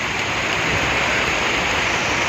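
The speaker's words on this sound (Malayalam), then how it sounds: "നല്ല മഴ ഉണ്ട് ഇവിടെ" Heavy rain pours at Athirappilly, a dense, unbroken broadband hiss of rainfall at a steady level, with no voices.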